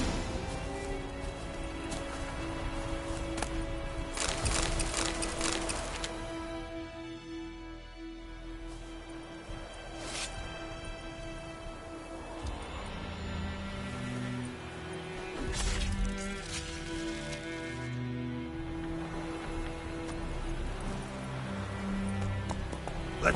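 Horse hooves clip-clopping in The Witcher 3, an irregular patter of steps over a steady background of game ambience and rain-like noise.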